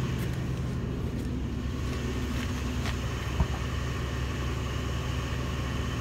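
A 2001 Mitsubishi Montero Limited with a 3.5L V6 idles outdoors near the tailpipe, giving a steady low rumbling drone with light wind buffeting and a single faint knock midway.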